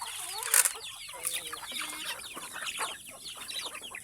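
Chickens and chicks cluck in a backyard flock in a rapid, overlapping stream of chatter. A louder squawk stands out near the start, over a soft low hum.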